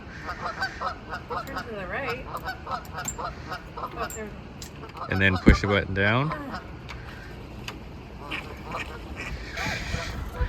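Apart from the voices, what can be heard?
geese honking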